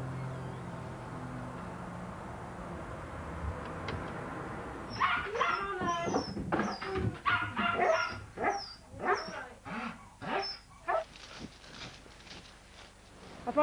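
Dogs out on a walk bark, yip and whimper in a lively burst of repeated calls at fairly close range, following a calmer outdoor stretch.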